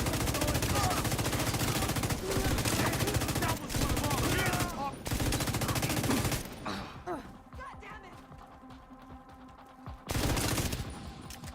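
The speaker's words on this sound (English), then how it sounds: "I'm gonna unload my LMG first." A light machine gun in a video game fires long, dense bursts of rapid shots, loud and close, before the firing stops and the sound thins out, then another burst comes near the end.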